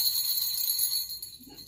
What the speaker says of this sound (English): It's a jingle bell pen.